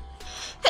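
A single sharp sneeze bursts out near the end after a breathy intake, close and loud, during an Escape from Tarkov gaming session.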